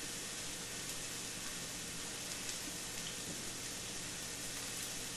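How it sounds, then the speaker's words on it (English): Boiling water pours steadily over beef pot roast packed in a canning jar, a soft continuous hiss and trickle at low volume with no talking. "And now I can pour my boiling water over it."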